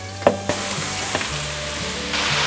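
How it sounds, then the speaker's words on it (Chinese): Enoki mushrooms stir-fry in a wok over medium heat with a steady, close sizzle, broken early by a few sharp clinks of the spatula. "把金针菇炒至金黄色。"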